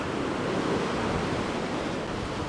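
Ocean waves and a building swell of about three metres off the Illawarra coast before a storm, heard as a constant broad rumbling wash of surf mixed with wind.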